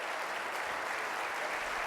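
A corporate audience applauds after a hypnosis show with a dense, continuous wash of clapping. It stays even and fairly loud throughout the short stretch, with no voices.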